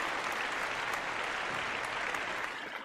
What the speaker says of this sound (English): And a big round of applause for Susie.